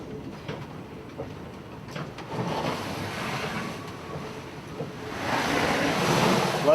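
A metro train rolls slowly through a train wash, with a continuous rushing spray and water noise that builds louder toward the end, close and alone.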